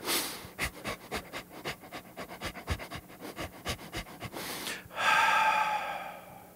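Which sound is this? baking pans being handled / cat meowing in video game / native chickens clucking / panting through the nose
panting through the nose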